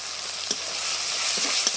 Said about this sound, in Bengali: ভালো করে মশলাটা ভালোভাবে একটু কষে নেবো